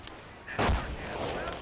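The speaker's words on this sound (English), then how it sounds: "A regular booby trap's been triggered." A sudden single explosion bursts out from a triggered booby trap in the World War II strategy game Company of Heroes, loud and broadband, then rumbles on under ongoing battle noise.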